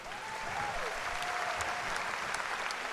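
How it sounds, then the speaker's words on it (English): An audience at a charity fashion and music evening applauds steadily, a dense, even roll of clapping heard from a distance throughout, with a faint tonal sound drifting over it near the start. "I want you all to applaud because these are our stars"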